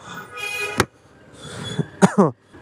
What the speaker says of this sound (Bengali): সরি কাশি এর জন্য